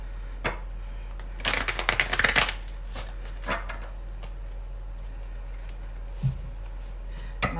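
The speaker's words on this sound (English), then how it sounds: "shuffling the deck." A deck of tarot cards is shuffled nearby in a quiet room, with one dense riffling burst of rapid flicking and a few scattered taps and card handling sounds before and after, no talking.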